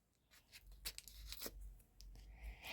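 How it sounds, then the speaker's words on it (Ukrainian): A paper surprise envelope is ripped open by hand in a few quick tearing bursts, quiet and close, with short pauses between the rips. "А я його просто розірвала."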